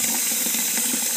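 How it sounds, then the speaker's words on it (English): Water pours steadily into a sink holding about two inches of water, a continuous bright hissing splash at close range with no voices. "water pouring down"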